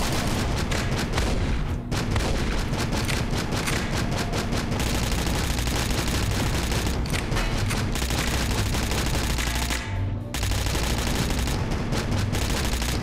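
Rapid SMG gunfire in the sci-fi shooter Astroswarm, dense and loud sustained bursts broken by a few brief pauses, with booming impacts blended in and no talking.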